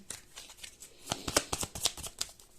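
Tarot cards being shuffled for a reading, a rapid run of crisp riffling snaps that builds into louder, denser bursts midway, close and clear with no talking.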